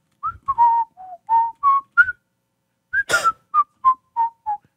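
A person whistles a short tune, a string of clear, close, fairly loud notes in two phrases separated by a brief pause and a breathy burst, with no talking.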